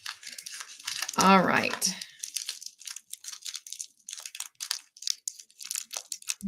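A plastic bag crinkles and rustles as it is pulled open for a tea party treat, with a voice speaking briefly over the start and the crisp crackling continuing in short bursts close by.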